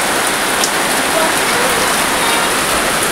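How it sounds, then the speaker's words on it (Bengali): Heavy rain pouring down in windy weather, a dense, continuous hiss of drops striking surfaces, loud and even from start to finish with no voices. "খুব বৃষ্টি হচ্ছে।"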